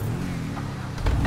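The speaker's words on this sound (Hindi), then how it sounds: "एग्जॉस्ट की आवाज है भाई." An Audi's exhaust in the GTA V video game gives a continuous low engine rumble that swells briefly near the end, with no talking.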